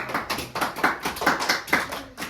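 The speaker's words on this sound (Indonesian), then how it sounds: "Tepuk tangan dulu dong." Children at a school health talk clap their hands together in quick rhythmic bursts, loud and close, with steady repeated pulses lasting the whole stretch and no voices heard.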